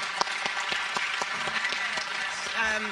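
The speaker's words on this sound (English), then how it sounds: "This is your applause." Audience at a multilateralism panel applauding after the panelists' remarks, a steady moderate round of clapping from a room of people, with a few sharper individual claps and a voice briefly coming in near the end.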